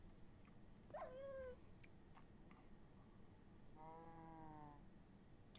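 A cow dying in a video game gives two short, bleating, moo-like cries, one early and a longer one near the end, over a soft, steady background hum with no talking.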